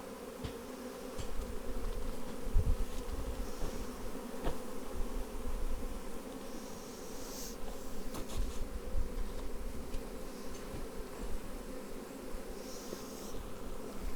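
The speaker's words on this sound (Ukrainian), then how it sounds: "Все, дивіться, процес заходу роя починається. Вони поступово починають йти в льоток." A dense, continuous buzzing hum of a honeybee swarm entering a hive at close range, steady and loud, with occasional faint knocks and rustles.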